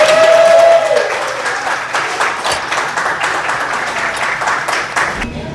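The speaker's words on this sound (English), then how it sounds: "Let's give her a round of applause." Audience in a restaurant at a Disney resort breaking into loud, sustained applause and cheering, dense clapping that holds steady for several seconds, close and full, with a brief tone sounding at the start.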